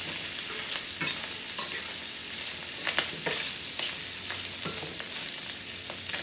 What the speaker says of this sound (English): Just let your sausages just brown on both sides.